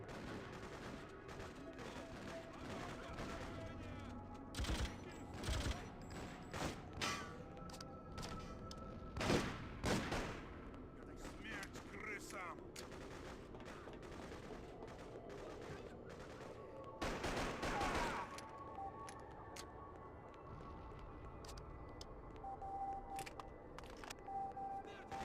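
Gunfire in the Freedom Fighters game: scattered sharp shots and short bursts spread across a long stretch, mid-distance over a steady battle bed, with a voice talking at times.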